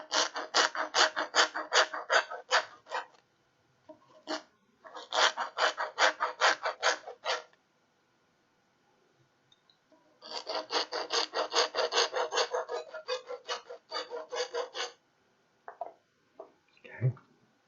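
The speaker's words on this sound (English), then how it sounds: "This time I will deburr it just a little bit because this one should be pretty close." Rasping, rhythmic deburring strokes on a freshly cut tube for a CPU liquid cooling loop, close up, in several rapid bursts separated by silent pauses.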